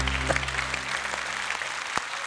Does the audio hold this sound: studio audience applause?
yes